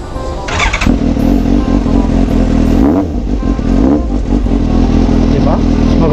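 Suzuki GSR 750 inline-4 motorcycle fitted with an Austin Racing Pipe exhaust, revving loudly and continuously up close with a steady throbbing drone, voices talking over it.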